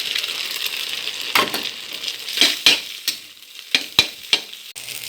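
Rice being stir-fried for Thai egg fried rice, a spatula scraping and tossing it in a hot sizzling pan, with a steady frying hiss broken by several sharp clinks and scrapes of metal on the pan.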